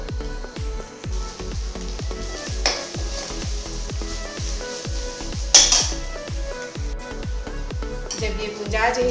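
Okra is stirred in a pan with a utensil, making a steady run of rhythmic scraping clinks against the metal over soft frying and a few louder knocks.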